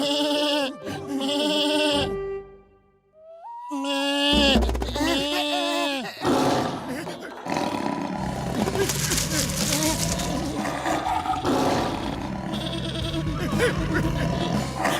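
A cartoon character's voice imitates a goat, letting out several loud, quavering bleats in two bursts, followed by busy music and other voices.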